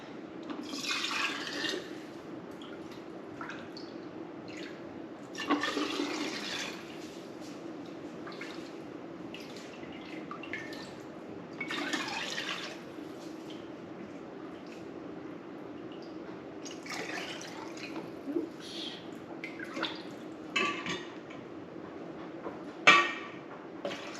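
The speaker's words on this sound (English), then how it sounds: "So now we're just gonna ladle it up into the jars." Homemade chicken broth ladled into canning jars in a kitchen, with intermittent liquid pours and splashes, soft clinks and a sharp knock near the end, heard close over a quiet room hum.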